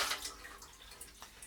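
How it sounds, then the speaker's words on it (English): Ice and water tipped out of a chilled cocktail glass into a sink, a faint trickle with light splashes and small clinks, quiet and close. "get rid of the ice and the water out of there."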